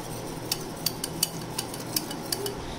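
Crepe batter with added milk is whisked in a bowl, giving quiet, irregular clinks and taps of utensil against the bowl over a soft background, with no voices.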